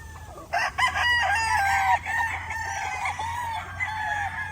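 A Black Gilmore sweater three-way cross gamefowl rooster crows loudly nearby, with a few overlapping crows and clucks over a low steady hum.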